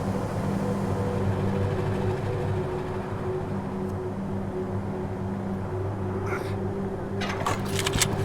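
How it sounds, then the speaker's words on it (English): Low, steady engine rumble of an approaching vehicle in the game Wasteland 3, a constant drone with no talk, joined near the end by a few brief sharper sounds. "Hear that engine rumbling"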